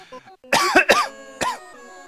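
A man coughs after a bout of laughter: a couple of quick, harsh coughs follow soft throaty sounds, then one more cough comes a moment later, all close and loud.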